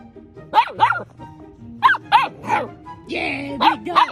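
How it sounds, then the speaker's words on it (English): A dog barks in short, close pairs of woofs with pauses between, loud and clear, with a bit of whining near the end. "Yeah, big dog."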